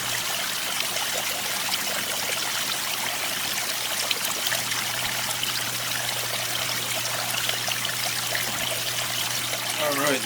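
Tap water runs steadily into a container for an aquarium water change, a continuous trickling stream heard alone at moderate level with a faint low hum beneath.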